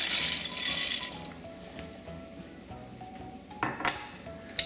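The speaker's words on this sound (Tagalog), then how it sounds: "at ilagay na natin itong ating noodles o yung pasta" Dry spiral rotini noodles tumbling into a cooking pot for chicken sopas, with a light rattle and a few clinking hits against the metal over a low simmering sizzle, then a couple of sharper clinks near the end.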